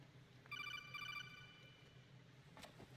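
A telephone rings in the Metal Gear Solid 2 video game: a bright electronic trill in two quick bursts, clear and prominent over low background game ambience, followed by a short click.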